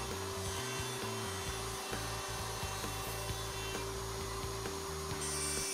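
A router on a router table cuts a box joint socket board, the board moved in and out of template openings; a steady machine whine holds throughout with a continuous rough rasp of wood being cut.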